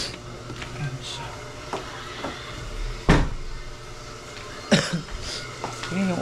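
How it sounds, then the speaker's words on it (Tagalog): A person coughs twice, with abrupt, harsh bursts several seconds apart over a noisy indoor background. "Yan yung ubo ko dahil matigas pa siya."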